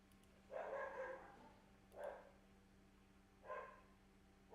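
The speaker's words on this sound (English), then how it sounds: "Don't mind the dog in the back." A dog barks three times in the background, muffled and somewhat distant, each bark separated by pauses, over a low steady electrical hum.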